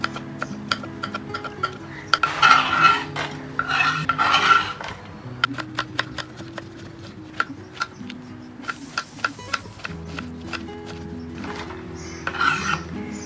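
Shevla (dragon stalk yam) stalks finely chopped with a knife, giving repeated short cutting ticks and rasping strokes in steady bursts, close and fairly clear, with no talking.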